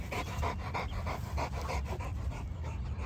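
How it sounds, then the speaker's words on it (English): Cane Corso dogs pant hard and rapidly after running hills, a close, rhythmic series of heavy breaths repeating steadily throughout. "They breathing hard."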